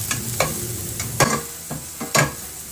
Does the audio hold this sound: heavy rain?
no